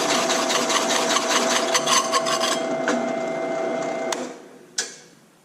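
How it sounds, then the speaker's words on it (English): A 3 3/8 inch hole saw grinds through 1/4 inch aluminum plate with a loud, steady mechanical whine and chatter. The drive then winds down, and a sharp clank follows. "a 3 3/8 hole saw. I need to make 3 round spacers."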